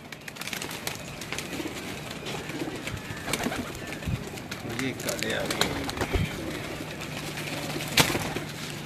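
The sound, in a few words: pigeons cooing on a rooftop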